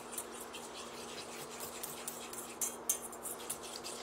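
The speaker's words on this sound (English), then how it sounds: "I'm going to stir that up a little bit." Melted chocolate stirred with a small Pampered Chef whisk, light rapid metallic clinks and scrapes against the bowl, faint and close, alone without talk.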